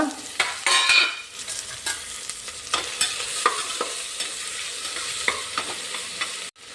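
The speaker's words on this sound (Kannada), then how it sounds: "ಈಗ ಟೊಮೆಟೊವನ್ನು 2 ನಿಮಿಷ ಫ್ರೈ ಮಾಡುವ" Tomato frying in a pan with oil for mushroom biryani, a steady close sizzle broken by frequent scraping stirs and clacks of a spoon, with no talking.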